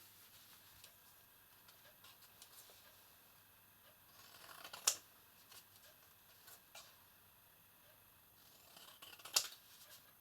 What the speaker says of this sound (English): And finally cut off the spare card for each sample.